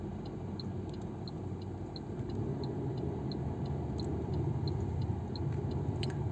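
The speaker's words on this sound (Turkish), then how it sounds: "Sağ sinyalimizi verdik." A car's right turn signal ticks in a steady, even rhythm inside the vehicle during an L-parking manoeuvre, with the low hum of the idling engine running continuously underneath.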